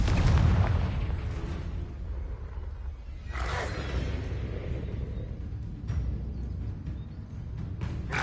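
A Confringo spell blast in the video game Hogwarts Legacy bursts out in a heavy boom at the start, followed by rumbling rolls and further bursts over a steady low game soundscape.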